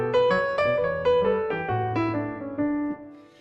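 Close, clear notes run through a scale with a gentle swung rhythm, nearly even pairs of notes, played alone without any talking.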